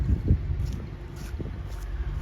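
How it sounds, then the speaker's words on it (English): Low, buffeting afternoon wind at a Maine deer camp rumbles against the microphone in uneven gusts, fairly loud and continuous, with no voices. "Super windy. High winds this afternoon."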